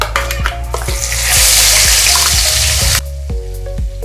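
Masala paste for egg curry fries in hot oil with a loud, steady sizzling hiss that swells midway, then drops abruptly, with scattered spatter ticks throughout.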